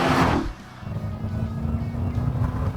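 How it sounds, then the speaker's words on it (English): Loud supercharged engine of a 2021 Dodge Durango Hellcat SUV after a launch, a steady drone with a high whine riding over a rumbling low end, close and continuous. "The whine of the supercharger. It has a hellish sound to it"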